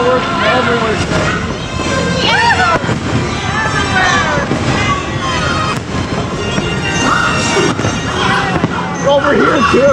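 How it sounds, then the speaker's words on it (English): Dense crackling and popping bursts of New Year's Eve fireworks all around at Disney's Magic Kingdom, loud and continuous, with excited voices talking and shouting over them. "Fireworks everywhere."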